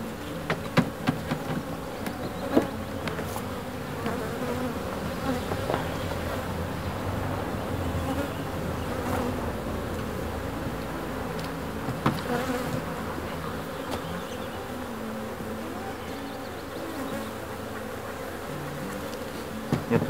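Honeybees buzzing steadily around an opened wooden hive at an apiary after wintering, a dense close drone with scattered louder passes of individual bees near the frames throughout.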